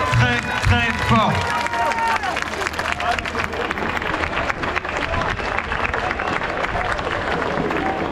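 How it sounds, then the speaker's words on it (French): At an outdoor Résistance demonstration, a crowd applauds the security volunteers. A voice on a loudspeaker trails off in the first seconds, then sustained clapping from many people fills the rest, dense and even. "On peut les applaudir très très très très très fort."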